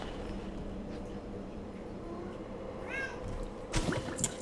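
A cat meows twice in quick succession, fairly faint, heard over soft ambient game background with a brief clatter at the end.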